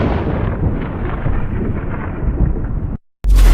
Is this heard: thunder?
yes